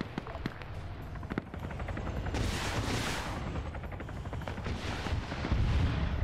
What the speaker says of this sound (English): strafing around. Helo 2 is going.